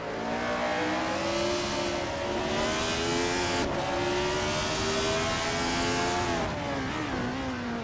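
Racing-game engines, including a Surtees TS19 among bot-driven cars, scream continuously at high revs with shifting pitch and gear changes, loud and steady throughout.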